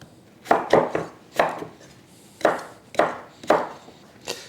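A knife chops a potato into pieces on a cutting board, with about eight distinct close thuds in uneven clusters and brief pauses between them.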